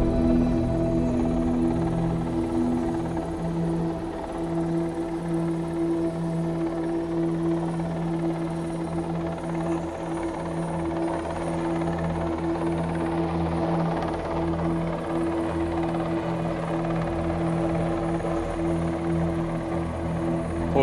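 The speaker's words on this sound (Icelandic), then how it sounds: "hér sjáum við síðan þyrluna þar sem hún kemur að björgunarskipinu" A helicopter arrives over a rescue ship during an offshore exercise near Sandgerði, its rotor drone steady and loud throughout with a continuous low throbbing hum and no speech.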